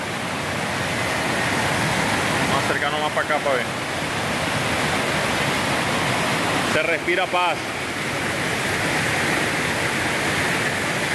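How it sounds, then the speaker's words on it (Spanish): A river rushes past a waterfall outdoors, a steady broadband roar of water filling the whole clip, with someone speaking briefly over it twice. "Vean aquí el río."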